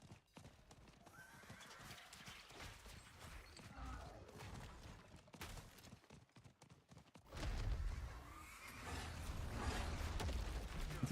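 A horse gallops in a video game, with steady clip-clop hoofbeats and whinnying that grow louder and nearer partway through, with no talk over them.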